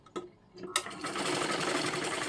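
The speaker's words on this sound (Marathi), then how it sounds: "डबल शिलाई मारून घ्या म्हणजे ते व्यवस्थित पॅक जाईल" A few faint clicks and a short pause, then a sewing machine starts and runs in a steady, fast rattling whir while double-stitching blouse piping, fairly quiet and close.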